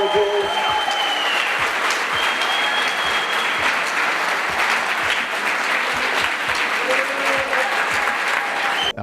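A live audience at a participatory budgeting award gives sustained, loud applause for the winners, dense clapping held evenly throughout with a few cheers and voices mixed in.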